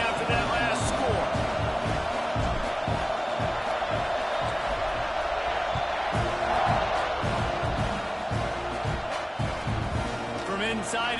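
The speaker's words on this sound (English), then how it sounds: "this crowd is buzzing after that last score" In a football video game, a stadium crowd keeps up a continuous buzzing roar after a score, with scattered whoops and thumps beneath commentary voices.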